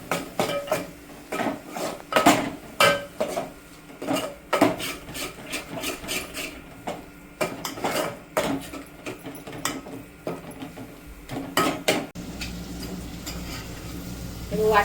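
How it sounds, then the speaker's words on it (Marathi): Masala paste for a spicy black crab curry is stirred and scraped in oil in a pot, giving repeated rasping, scraping strokes in an irregular rhythm, close and fairly loud. "हे छान सगळं मस्त तेल सुटेपर्यंत परतून घ्यायचं."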